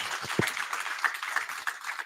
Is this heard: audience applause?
yes